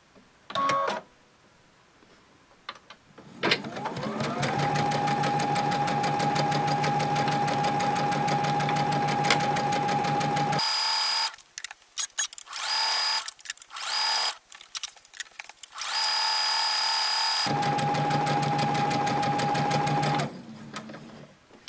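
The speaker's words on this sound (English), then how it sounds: "So let's start and sew it." A sewing machine stitches together two pink lemonade quilt squares with nested seams. It gives a long, loud, steady whirring run, then several short stop-start bursts, then another sustained run before falling quiet.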